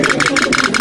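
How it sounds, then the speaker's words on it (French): A pop-pop boat, a simplified steam engine, runs with a fast, steady, rhythmic popping pulse, loud and close, repeating in even beats. "C'est un moteur à vapeur simplifié, quoi, c'est ça. Totalement. Et qui fait du bruit, qui fait pop-pop."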